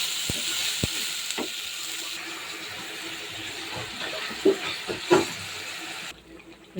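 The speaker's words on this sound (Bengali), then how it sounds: "পাবদা মাছের জন্য আদা বাটা রসুন বাটা পেঁয়াজ মরিচ দিয়ে ভালো করে কষিয়ে দিচ্ছি" Ginger and garlic paste, onion and chili sauté in a pan for a pabda fish curry, giving a steady close sizzle with a few stirring knocks, then cutting off abruptly just before the end.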